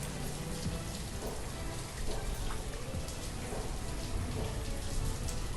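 Steady, dense rain drums over the landscape of the city-building game Banished, a constant close wash of drops with no pauses and no voices.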